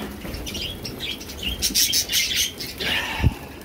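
Birds at nest boxes chirp and tweet in bursts while wings flutter and flap nearby as they land, with a soft thump near the end; no talking.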